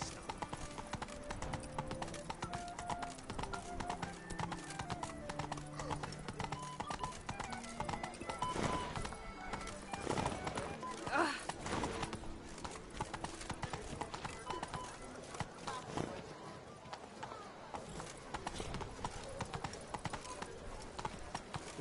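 Roach, the horse in The Witcher 3: Blood and Wine, gallops through Toussaint with a fast, continuous clip-clop of hoofbeats that stays prominent over dense game music and ambience.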